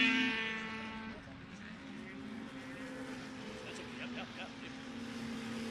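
Racing snowmobiles roar past on a frozen pond oval during a central Minnesota pond race, their engine whine rising and falling at moderate distance in a steady droning pass, with a commentator talking over the noise.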